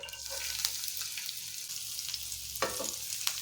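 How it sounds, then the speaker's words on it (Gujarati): Ginger, green chilies and chopped garlic sauté in hot oil, a soft continuous sizzle punctuated by a few crisp spoon clicks and scrapes against the pan. "તો હવે આપણે એ તેલમાં સાતરી લઈશું"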